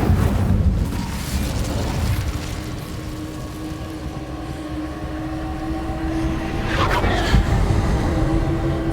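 Incendio fire spell cast in Hogwarts Legacy against a giant spider, a loud roaring whoosh with deep rumble that swells at the start and again near the end, sustained throughout.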